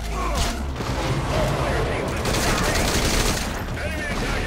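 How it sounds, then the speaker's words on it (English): Rapid gunfire bursts from Metal Gear Solid V: Ground Zeroes crackle loudly and continuously, with a voice talking over the shooting. "I'm shooting this guy in the head."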